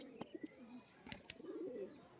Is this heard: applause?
no